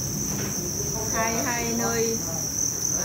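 Crickets at the Thanh Xuân cricket farm chirp in a steady high-pitched trill, close and continuous, while a voice speaks briefly over them.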